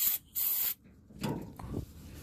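A spray can hisses in two short bursts during a car gas tank repair, followed by quieter rubbing and handling noises close by.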